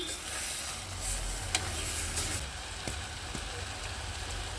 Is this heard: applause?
no